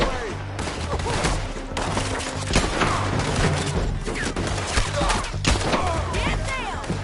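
Video game battle with artillery and gunfire, dense rapid volleys of shots and booming blasts overlapping continuously, with voices shouting faintly underneath.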